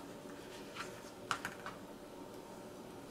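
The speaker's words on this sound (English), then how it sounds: "Now we are going to take the roll and we are going to cut" A knife slices through a vegetarian sushi roll on a board, giving a few soft, quiet taps and clicks close by, spaced over a couple of seconds against a low background hum.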